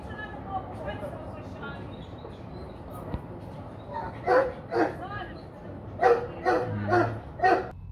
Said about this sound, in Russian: собаки это обычное дело, а то, что они гавкают, это их работа